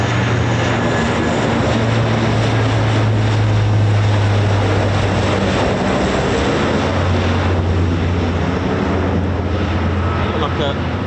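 A military aircraft flying past in a side slip near an RAF airfield, a loud, sustained propeller-engine drone with a steady hum that swells and shifts in pitch, with voices talking over it.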